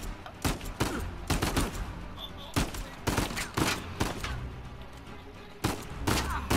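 Video game gunfire from Uncharted 4, a run of sharp, loud shots in quick bursts with short gaps between them, and a faint talking voice underneath.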